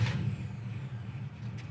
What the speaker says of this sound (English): Listen how easy it starts.